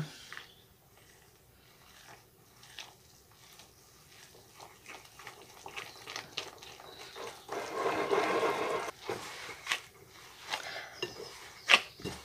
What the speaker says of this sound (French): on pétrit jusqu'à ce qu'on amalgame toute la farine avec l'eau et qu'on obtienne une jolie boule